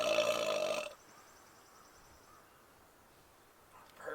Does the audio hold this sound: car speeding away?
no